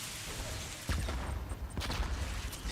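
Grenade blasts in a StarCraft II match thump out as a cluster of muffled booms and crackling bursts, fairly faint under the game's din.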